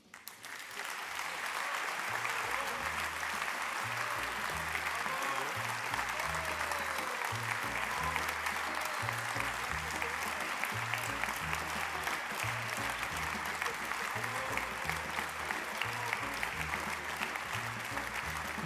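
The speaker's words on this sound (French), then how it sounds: "je serais très touchée si ici maintenant vous pouviez applaudir cette équipe" An audience at a Lions Club evening event in Nantes applauds a team, with dense, steady clapping from a crowd that holds at an even level throughout.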